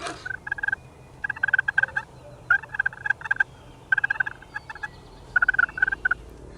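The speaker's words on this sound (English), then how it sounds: "There was a gobbler that was way off in the distance" A wild turkey gobbler gobbles repeatedly during a Michigan spring hunt, the rattling calls coming in about six bursts, each made of rapid notes, with quiet gaps between them.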